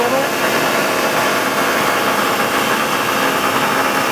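A Mori CNC machine whirs with a constant, dense hum and hiss as it drills a hole, loud and unchanging throughout with no voices.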